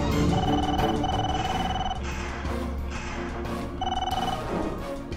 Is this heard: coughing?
no